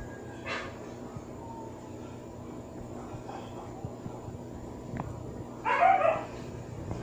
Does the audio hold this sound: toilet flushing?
no